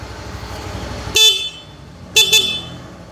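Motorcycle horn on a Yamaha Mio M3 fitted with a horn relay, honking twice loudly over a low engine idle: one short blast, then a double toot a second later.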